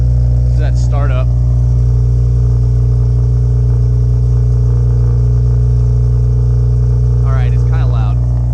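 A Honda Civic engine fitted with a TVS 1900 header runs at startup, producing a loud, steady, low droning rumble throughout, with short bursts of someone talking over it.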